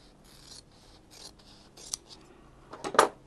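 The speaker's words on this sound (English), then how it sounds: "now all I have to do is cut between those two lines" Fabric being cut with scissors between two marked lines for a quilt block, a soft, close rasping snip that builds to a louder crunching cut near the end, with no talking.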